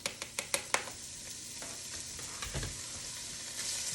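Chopped pancetta frying in a pan for a ragu, a steady crackling sizzle throughout, opened by a few sharp clicks of utensils against the pan and a brief low thump midway.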